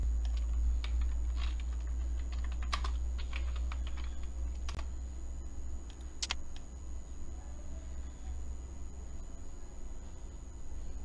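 Close, quick bursts of computer keyboard typing with scattered sharper key clicks over a steady low hum, fairly quiet and with no one speaking.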